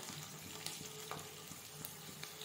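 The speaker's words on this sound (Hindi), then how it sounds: "तो प्याज को अच्छी तरह से पकने देते हैं।" Onions sizzle and crackle steadily in hot oil in a pressure cooker, a soft close frying hiss with occasional stirring clicks and no voices.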